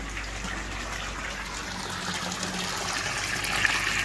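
Water from a tap trickles and gushes steadily into a basin, a constant hissing flow that swells slightly louder toward the end, with no voices.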